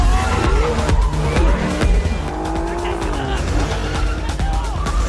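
Car chase with police cars, tires squealing and skidding loudly as engines roar and vehicles pass close, with voices speaking over the action.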